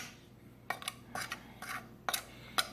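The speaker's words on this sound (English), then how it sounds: "you just mix that thoroughly with the all-purpose flour" A utensil mixes a seasoning blend into all-purpose flour in a bowl for chicken tenders, with soft irregular scraping and clinking strokes, close and quiet.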